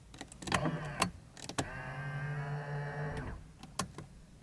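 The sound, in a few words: Nissan Skyline R32 electric mirrors folding in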